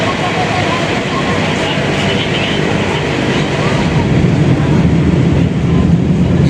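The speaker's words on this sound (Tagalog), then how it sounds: "narinig nyo yung LRT1. Ayan, train po yun." An LRT-1 light rail train rumbles past near the MacArthur bridge over the Pasig River in Manila, making a loud, continuous low roar that holds steady and slightly swells toward the end.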